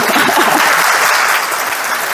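Audience applause at a business success talk: a dense, loud, steady wash of many hands clapping that holds for about two seconds without a break.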